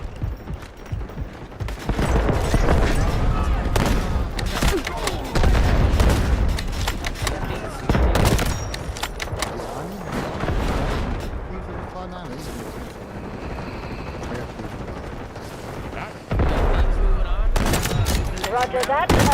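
Artillery barrage in a military shooter video game: repeated loud booms and rolling gunfire blasts in dense bursts, with brief lulls between volleys, mixed with voices talking over the battle.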